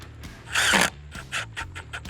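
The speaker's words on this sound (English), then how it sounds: "we're gonna start a pilot hole here" A drill boring a pilot hole while installing an interior door, with a steady whirring run broken by short louder bursts as the bit bites, heard close and without talk.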